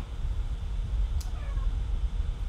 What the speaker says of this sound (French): Oh, joli le petit chat qui arrive là.